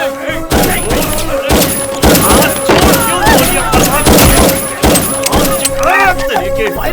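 Gunfire in an action movie scene comes as a rapid series of loud, sharp cracks and thumps mixed with a busy soundtrack, and voices speak throughout.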